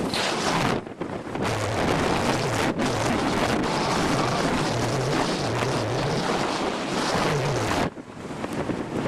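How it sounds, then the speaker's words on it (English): Strong wind buffets the microphone on a beach while rough waves crash and surge, a loud continuous roar with brief lulls. "I did say it's windy down here"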